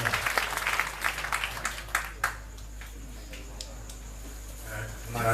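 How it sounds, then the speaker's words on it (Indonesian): An audience at a talk bursts into applause, dense clapping up close at first, then thinning into scattered claps that fade away, with a faint voice underneath. "Ya, tepuk tangan Pak Mustafa"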